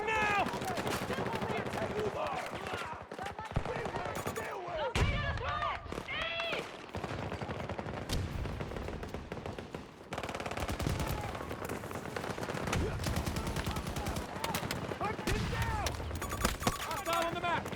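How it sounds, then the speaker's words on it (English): Rapid automatic gunfire in a multiplayer shooter video game rattles almost nonstop, dense bursts layered with in-game noise while players shout and talk over it throughout. "They're shooting at me!"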